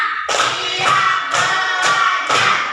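Elementary schoolchildren clap in unison to a count, five crisp group claps in a steady beat roughly half a second apart, close and loud with no voices over them.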